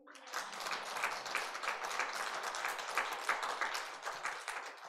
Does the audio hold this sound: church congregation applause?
yes